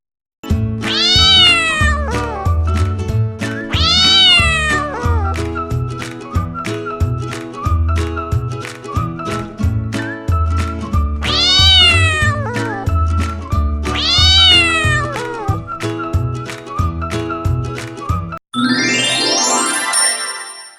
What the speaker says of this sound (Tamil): cat meows.